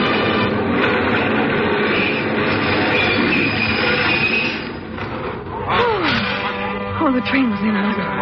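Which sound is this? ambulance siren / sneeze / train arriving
train arriving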